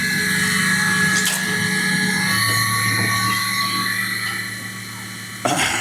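A CNC machine drills a center hole, giving a steady high whine with tonal hum that shifts pitch partway through, then drops off near the end before a sharp final clatter.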